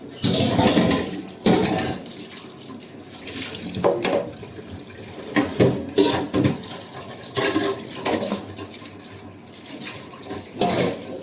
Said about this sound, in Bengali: থালাটা ধুয়ে নিই, ডাস্টবিনে ফেললাম।